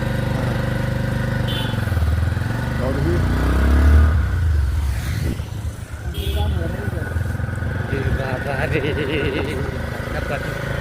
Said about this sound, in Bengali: আফ্রিদি ভাই বাইক চালাচ্ছিল আস্তে আস্তে